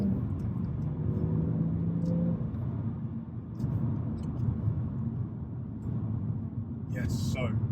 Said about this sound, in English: a 3-litre turbocharged straight-six